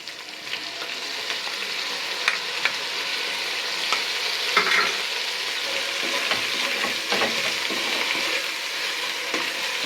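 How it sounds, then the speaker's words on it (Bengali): Onion paste fries with garlic paste in hot oil for a Bengali chicken kosha curry, a steady close sizzle broken by repeated scraping clicks of a stirring spoon. "পেঁয়াজ বাটাটা একটু ভালো মতন ভেজে নেবেন"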